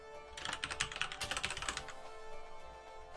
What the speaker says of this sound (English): I'm typing as I'm going over this because that's easy